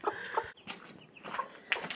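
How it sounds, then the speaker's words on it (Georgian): A mother hen with her three small black chicks gives short, soft clucks, and thin high peeps from the chicks come in between, all heard close up with no talking. "და კრუხი თავისი 3 წიწილით აქ არის."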